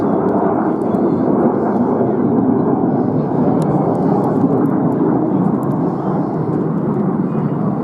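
RAF Red Arrows jets at an air display roar steadily overhead, a loud continuous broadband rumble of engines that fills the whole stretch with no break.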